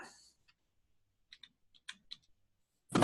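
Computer keyboard keys are pressed in a few sparse, light clicks with quiet gaps between them, close and faint, ending in a louder clatter.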